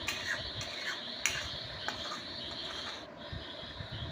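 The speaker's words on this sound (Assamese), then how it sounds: "এতিয়া এইখিনি লৰাই লৰাই অলপ সময় ভাজি থাকিম" Paneer butter masala being stirred and fried in a pan, a steady sizzle with scraping spoon strokes and occasional clinks of utensil on metal, close and continuous with no talk.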